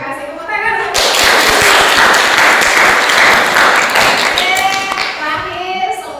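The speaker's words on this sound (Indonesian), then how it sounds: "Tepuk tangan." Students of SMK Negeri 1 Blora clap together at a school session, a dense burst of applause lasting several seconds, loud and close, with voices and a tonal sound before and after it.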